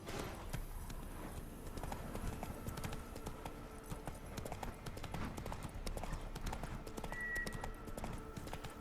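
Roach, Geralt's horse in the video game Witcher 3, trots with a steady, close clip-clop of hooves throughout. A faint voice mutters briefly underneath.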